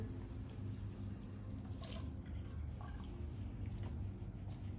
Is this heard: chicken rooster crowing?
no